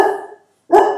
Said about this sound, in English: the dog was barking because there was someone at the door